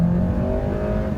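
Hyundai Elantra engine held at high revs against its 6,750 rpm rev limiter, a steady, loud, close buzzing drone with no voices over it.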